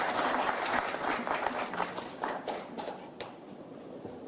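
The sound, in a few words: audience applause for the president of Haiti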